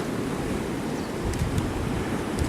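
Sea waves wash steadily over rocks at Bantham Beach, a continuous near rush of surf with gusting wind noise and a few brief splashes, heard alone.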